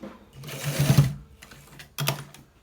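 A sewing machine stitches a neck design in two bursts of rapid mechanical whirring, the first longer and louder, the second shorter after a brief pause, close up and without talk.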